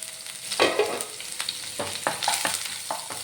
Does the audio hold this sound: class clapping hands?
no